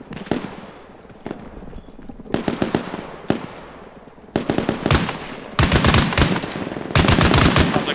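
A mounted gun fires in Arma Reforger. Loud bursts of automatic fire alternate with short pauses, and the bursts grow longer and denser toward the end.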